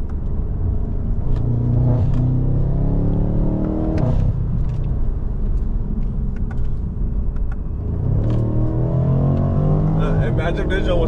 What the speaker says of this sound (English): the exhaust note is not annoying